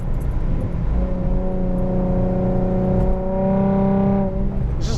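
A tuned Ford Mustang 3.7 V6 with 3.73 gears holds a steady rev around 3000 RPM, a smooth, even purr with strong low harmonics that stays loud and close throughout before easing off at the end.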